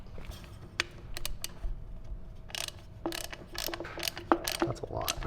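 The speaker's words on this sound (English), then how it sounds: "make sure you tighten this down all the way before you install it" NPT fitting plugs are tightened with a hand tool, giving close, crisp ratcheting clicks in irregular short bursts separated by pauses.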